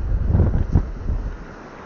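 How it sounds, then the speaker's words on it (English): Steady wind gusting across an open beach at Caister during a fishing session by the sea, a loud low rumble buffeting the microphone with a stronger gust midway, no voices. "I know it's windy"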